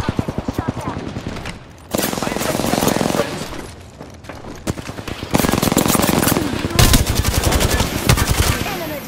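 Rapid automatic gunfire in the battle royale game Apex Legends rattles close and loud in sustained bursts with brief pauses between them, partly under game character voices.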